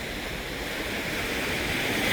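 Strong surf rolls onto a beach in Sicily, a continuous loud wash of breaking waves and hiss filling the scene without voices.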